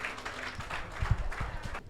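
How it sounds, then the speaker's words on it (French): Brief audience applause in a lecture hall for a speaker, a modest patter of hands lasting under two seconds before cutting off abruptly. "Vos applaudissements"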